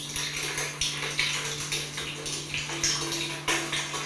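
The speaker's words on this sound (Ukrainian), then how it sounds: "Тут на відео навіть чути, як тече вода." Rainwater running into a flooded apartment at night during a downpour, a steady trickling and splashing with faint clinks, recorded close on a phone under a constant low hum.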